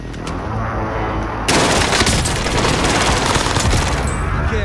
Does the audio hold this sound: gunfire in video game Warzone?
yes